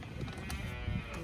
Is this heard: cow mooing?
yes